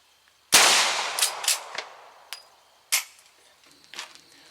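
A single sharp gunshot fired outdoors through a chronograph, followed by a decaying echo and a few fainter metallic clicks and knocks afterward.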